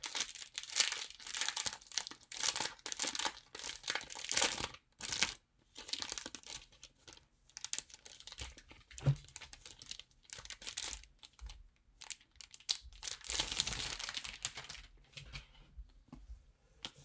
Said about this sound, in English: So it's plastic wrap.